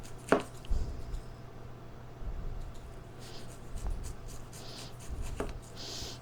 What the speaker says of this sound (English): I'm not afraid to cut onions with that knife now